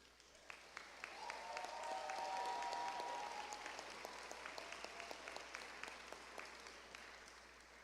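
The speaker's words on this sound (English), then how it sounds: "Let's give them a little bit more round of applause." Sustained applause from an audience at a high school graduation ceremony for the class of 2024, a broad wash of clapping that swells and then holds steady, heard from a distance in a large hall.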